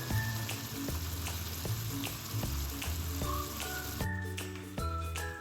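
Whole spices such as cinnamon and cloves sizzle and fry in hot oil in a pan for a Kerala chicken roast, a steady continuous crackle with occasional stirring scrapes and clinks, close up and without talk.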